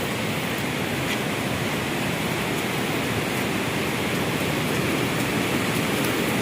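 Water gushes hard from Wawa Dam in a loud, unbroken roar that holds steady from start to finish, with no voices over it.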